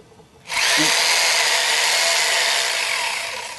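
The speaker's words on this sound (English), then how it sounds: "hammer drill and a 3/8 inch masonry bit" A hammer drill with a 3/8 inch masonry bit bores into concrete, kicking in abruptly and running loud and steady for several seconds as it grinds the hole, easing slightly near the end.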